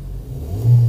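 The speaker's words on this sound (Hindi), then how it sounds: "तो कहें तो मैं इसको स्टार्ट भी कर देता हूँ। ये गाड़ी होगी स्टार्ट," Engine of a 2016 Toyota Corolla with manual transmission, heard from close by as a steady low rumble that swells louder toward the end as it catches and revs.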